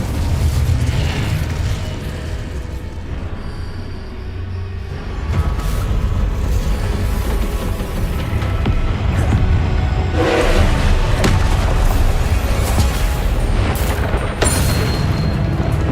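Confringo blasting spell explosions in the Hogwarts Legacy video game, repeated loud booms and bursts over a continuous rumbling battle din, with sharper blasts clustering near the end.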